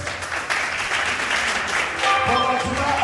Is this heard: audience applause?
yes